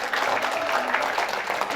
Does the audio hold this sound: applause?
yes